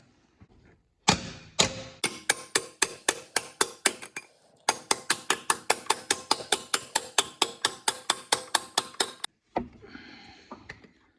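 Rapid series of sharp metallic hammer taps driving a front main seal onto the crankshaft snout of a Dodge Cummins 5.9 diesel, about thirty close, evenly spaced strikes in two long bursts with a short pause between, no talking.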